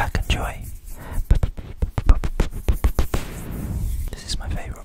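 Close ASMR hand sounds: quick palm rubbing and brushing with sharp, rapid swishes and soft slaps in an uneven rhythm, loud and intimate, easing into a smoother rustle near the end, with no talking.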